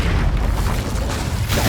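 Blasts of the Incendio fire spell in Hogwarts Legacy, a loud booming burst of flame with a heavy low rumble that swells, dips, then flares again at the end.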